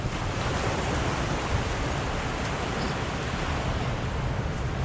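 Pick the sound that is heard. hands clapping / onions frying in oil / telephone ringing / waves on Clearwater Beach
waves on Clearwater Beach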